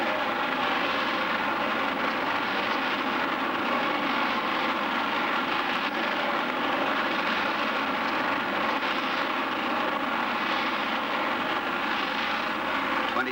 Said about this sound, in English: Seconds and 280 tons of fuel later, the rocket cleared the pad.